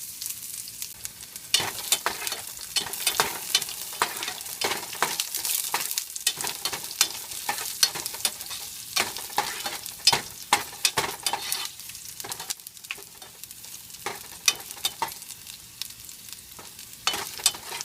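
Finely chopped garlic fries in oil while a spoon scrapes and stirs it, a soft continuous sizzle punctuated by frequent sharp clinks and scrapes against the pan, close and steady.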